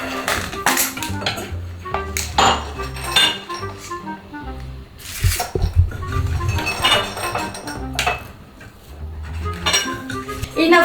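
Pots, pans and utensils clatter and clink close by in a kitchen while Tagada strawberry sweets are melted in a saucepan, with repeated sharp metallic knocks throughout and faint voices.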